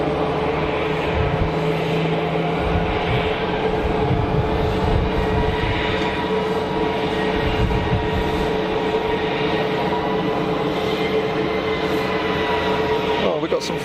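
A landing airliner at Geneva Airport roars under engine thrust reversers, a loud sustained broadband rumble that holds steady for the whole stretch, with a voice talking over it at times.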